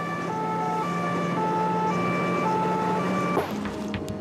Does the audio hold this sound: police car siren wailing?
yes